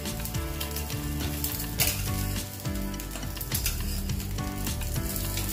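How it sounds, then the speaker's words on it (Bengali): French toast fries in a pan with a steady, close sizzle, joined by rhythmic stirring and scraping sounds throughout. "আমি এখানে আমার জন্য ফ্রেঞ্চ টোস্ট বানিয়ে নিচ্ছি"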